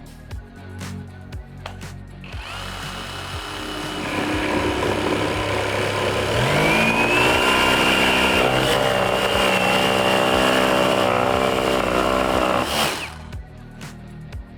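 A cordless jigsaw motor whirs steadily, then strains and grows louder with a rising whine while cutting under load, before dropping back off.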